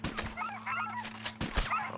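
A wild turkey in Red Dead Online gives short honking gobble calls, two bursts close by with a low steady hum beneath.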